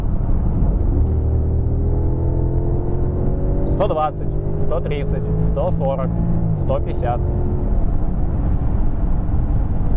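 An Audi S8 engine revs and pulls through the gears with a rising exhaust drone as its exhaust flaps open, while someone talks over it, counting along.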